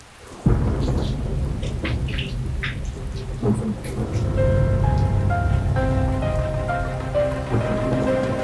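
Steady rain pours down under rolling thunder, a dense continuous wash of noise with a deep rumble swelling midway and lingering to the end.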